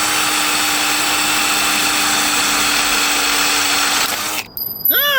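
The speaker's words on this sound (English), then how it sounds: "I'm just going to go until the drill catches" A power drill whines steadily and loudly while boring a hole in a bicycle delivery trailer, then cuts out abruptly as the bit breaks, followed by a few brief squeaky scraping noises.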